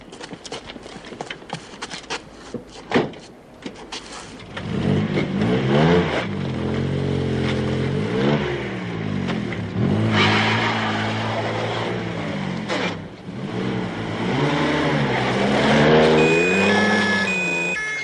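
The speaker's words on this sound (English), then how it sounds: "Get the car turned around." Car engine revving as the vehicle turns around on a country road and pulls away, rising and falling engine tones with gear changes, loud and close.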